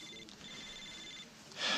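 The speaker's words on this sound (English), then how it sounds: "It's your phone." A telephone rings quietly indoors, a faint electronic ringing tone held steady for about a second before a louder noise cuts in at the end.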